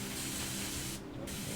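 Airbrush or spray can hissing steadily as green paint goes onto a 1/48 Tamiya Spitfire Mk.1 model in a spray booth, a continuous close spray with a brief pause near the end.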